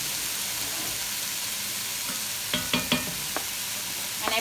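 Vegetables and garlic fry in a pot with a steady hiss of sizzling, then a few scraping stirs of a utensil clack against the pot near the end.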